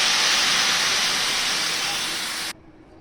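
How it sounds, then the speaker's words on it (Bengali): Water poured into a pan of frying pumpkin and vegetables sets off a loud, broad steady hiss that stops abruptly near the end, leaving quiet room noise. "সবজি ভাজা হয়ে গিয়েছে, এবার দিয়ে দেব জল"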